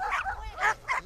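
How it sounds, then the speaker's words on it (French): A Belgian Malinois puppy in snow gives three short, high yipping barks in quick succession, close and clear. "c'est un berger belge malinois"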